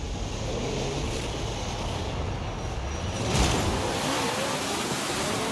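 Steady engine drone of a COPO Camaro in a Forza Horizon 5 drag race, with a rising rev around the middle, continuous and fairly loud with no talking.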